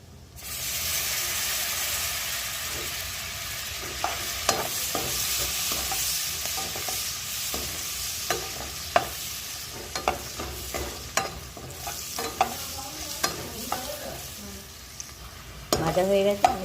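Cashews fry in hot ghee in a pan with a constant loud sizzle, while a spoon scrapes and clicks against the pan at an uneven rhythm as the nuts are stirred.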